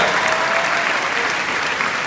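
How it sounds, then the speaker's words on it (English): Loud, close applause from a large audience at a corporate family reunion event, a thick continuous patter of many hands clapping with no pauses. "Big round of applause for her."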